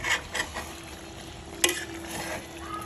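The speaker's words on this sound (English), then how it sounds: "give it a stir, a good one, to prevent it from burning" Spoon stirring kontomire stew with agushie in a pot, a few scraping strokes over a low steady sizzle, fairly quiet with one sharper clack near the middle.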